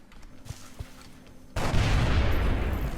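A single carbine shot in the XCOM: Enemy Within Long War mod lands as a sudden loud crack that gives way to sustained noisy rumble, after a quieter stretch with a few faint taps.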